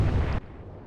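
A shell bursts on a freighter in the naval warfare game Atlantic Fleet, a loud, close blast that cuts off sharply after less than half a second and leaves a faint low tail behind.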